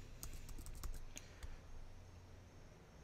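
A computer keyboard is typed on in a quick run of light, close clicks over the first second and a half, followed by a couple of stray taps against a quiet hum.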